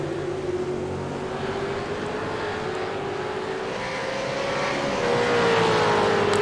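V8 race cars at full throttle through a sweeping right-hander at a circuit, a sustained loud engine roar with a slowly rising pitch that swells louder toward the end, heard without talk.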